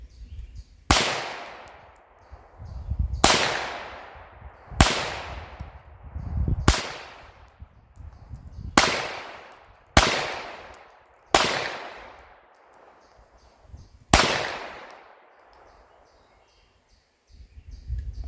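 Eight sharp .22 pistol shots are fired at clay targets outdoors, spaced a couple of seconds apart. Each loud crack is followed by a decaying echo, and there is no talking.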